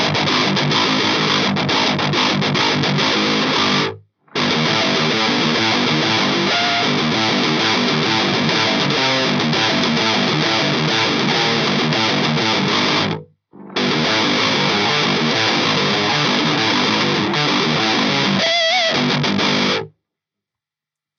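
Heavily distorted electric guitar through a Djenttonic Distortion pedal into a Blackcat amp plays aggressive, dense riffs, loud and close, broken by two abrupt silent stops before ending cleanly.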